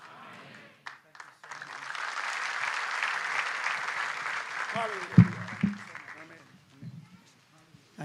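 Applause and ululation from a congregation during church praise, a dense wash of clapping and high trilling voices that swells, then thins out into a few scattered claps and thumps before fading.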